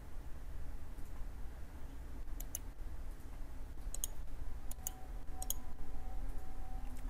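Several sharp, quiet mouse clicks come in small clusters during a CAD software drawing session, over a steady low room hum with no talking.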